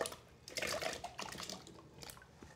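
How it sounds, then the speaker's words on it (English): Peeled Yukon Gold potato pieces, cut into bite-sized chunks, drop into a pot of cold water with soft splashes and watery clatter, several quick plops close by and no talking. "So we're gonna get these into the cold water to start."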